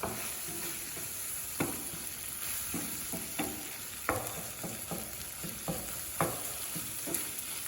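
Meat pie filling with flour sizzling in a pan, continuous frying hiss broken by sharp intermittent scrapes and knocks of stirring, near and without talk.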